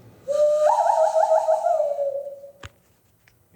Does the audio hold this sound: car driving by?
no